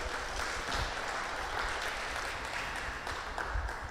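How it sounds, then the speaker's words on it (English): An audience gives a warm round of applause to welcome a visiting Franciscan priest from Singapore at a live church gathering, steady mid-level clapping with no talk over it for a few seconds. "Let us give him a warm round of applause."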